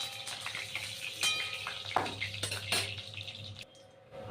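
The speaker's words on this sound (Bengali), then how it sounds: "ডিমটা তেলের মধ্যে ভেজে নিলাম" Duck eggs fry in hot mustard oil with a soft, steady crackle and light spatters, a few faint clinks, before the sizzle drops away near the end.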